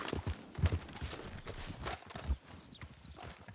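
Horse hooves clip-clop in a video game, a quiet, uneven run of hoof strikes under muffled background noise and a faint voice.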